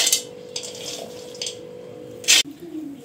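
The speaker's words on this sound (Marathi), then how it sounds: "आता मी हे शेंगदाणे मिक्सरच्या भांड्यामध्ये टाकून घेत आहे" Raw unpeeled peanuts tumble into a steel mixer grinder jar in a home kitchen, giving a few close, brief rattling clatters separated by short pauses over a faint steady hum.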